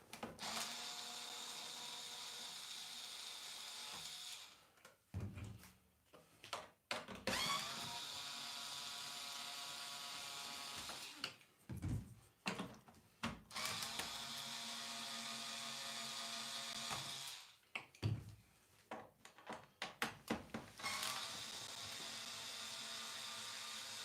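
A power tool spins drum lugs loose in repeated bursts, each several seconds of close, loud whirring separated by short pauses with clanks and rattles of hardware.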